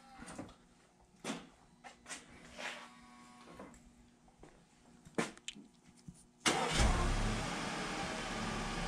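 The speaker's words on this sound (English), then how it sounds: "So we're gonna go ahead and fire this thing back up one more time." An Audi Q5 of the 2009-2017 generation fires up by remote start, a sudden broadband engine burst after several sharp clicks and thumps, then settling into a steady near idle that carries on alone.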